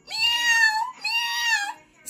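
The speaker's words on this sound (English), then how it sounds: "Lucky meows one more time." A cat lets out two long, drawn-out meows, each a bit plaintive and close by, with a short pause between them.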